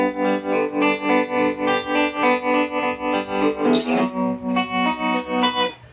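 Sustained electric guitar chords run through a tremolo pedal, pulsing in steady rhythmic swells, with a brief strum change midway before the tone cuts off at the end.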